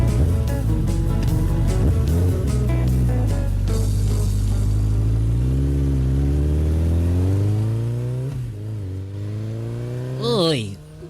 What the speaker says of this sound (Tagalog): Uy, may motor man nga umukoy tungod amon palay.